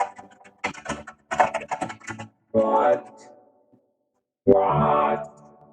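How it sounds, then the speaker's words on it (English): Bursts of keyboard typing run through a pitch-correcting voice effect, giving the clicks a warbly, tuned, robotic character, with pauses between the bursts. "love how the keyboard typing is still auto-tune, sorta."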